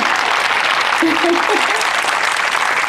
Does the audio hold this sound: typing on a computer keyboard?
no